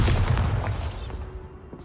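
A Bombarda blasting spell explodes in the Hogwarts Legacy video game: one loud, close, booming burst that rumbles and slowly fades over the following second.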